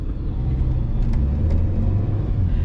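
A Mercedes A250 cruises over smooth asphalt, heard from inside as a steady, even low road and engine rumble with no talk.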